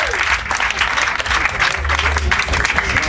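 Audience applause at a comedy hypnosis show at Burning Man's Magic Camp, a dense steady burst of clapping from a crowd that holds for about three seconds.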